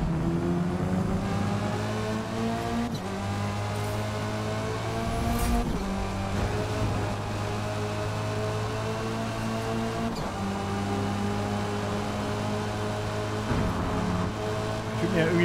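An Opel Astra race car in Forza Motorsport drones steadily with a loud, even engine tone, with a few brief dips as the car shifts gear, and a voice talks over it.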